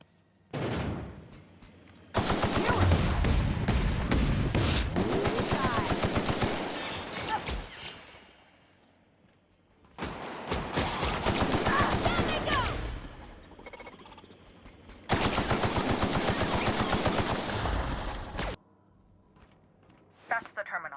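Gunfire bursts in the video game The Outer Worlds arrive as dense, loud rapid-fire volleys in three long stretches, separated by quieter pauses.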